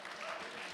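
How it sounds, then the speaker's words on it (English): A brief stretch of steady audience applause at a sangeet celebration, dense and even, with no pauses or breaks in the clapping. "let's give another round of applause for the Verma cousins and the kids."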